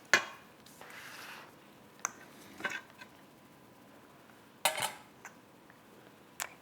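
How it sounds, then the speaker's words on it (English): A utensil stirs Irish cream chocolate cheesecake batter in a bowl, making a few soft, close scrapes and light clinks separated by quiet pauses, with no talking. "I'm just gonna stir it, kind of going from the bottom to the top."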